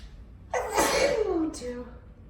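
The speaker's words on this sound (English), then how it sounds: "I'm gonna see how many times I sneeze." A person sneezes once, loud and close, a sharp burst that trails into a falling vocal tone, with a brief breathy tail after it.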